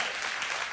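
Church congregation applauding at a service, a brief burst of scattered clapping at moderate distance with no speech over it.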